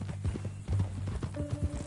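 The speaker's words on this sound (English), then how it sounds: "That a new horse?" A horse's hooves clip-clop in a quick, steady rhythm, close by and at moderate volume.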